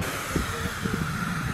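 Aerosol sunscreen spraying in a continuous hissing burst outdoors on a vacation shore, steady and close for about a second and a half.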